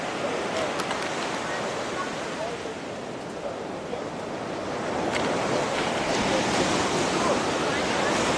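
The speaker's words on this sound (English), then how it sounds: "I'm at the beach" Constant roar of ocean surf with wind buffeting the microphone, swelling louder toward the end; a voice is faintly present beneath the noise.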